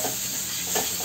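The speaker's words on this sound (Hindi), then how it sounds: "तो इसे अच्छे से भून दे देते हैं।" Masala fries in oil in a kadai while being stirred, giving a short, close, steady sizzle with no talk.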